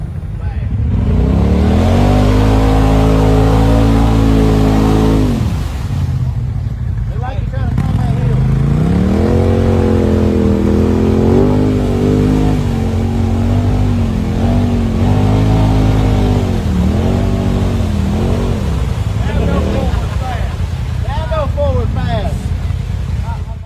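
An off-road RZR side-by-side revs its mid-pitched engine repeatedly while splashing through mud puddles, the loud, wavering drone surging and easing almost without pause, with a brief dip early on.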